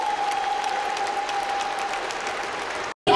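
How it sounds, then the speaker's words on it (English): A congregation applauds in a church, a steady, dense round of clapping that holds evenly, then cuts off abruptly near the end. "Let's give him a round of applause for expressing himself."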